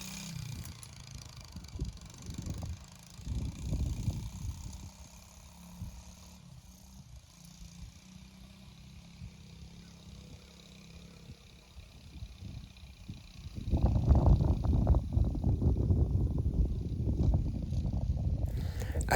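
A 1972 Honda SL70 small-displacement motorcycle, run for the first time in about 35 years, idles and then revs up loudly as it rides off, its putter rising to a steady strong engine drone near the end.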